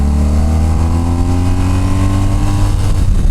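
A motorcycle accelerating hard out of a downhill corner, its engine note climbing steadily in pitch as the throttle opens, loud and close with a continuous roar throughout.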